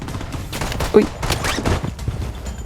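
Gunfire in the shooter video game Blood Strike comes as bursts of rapid shots with an M4A1 in use, dense and loud, while someone talks over it.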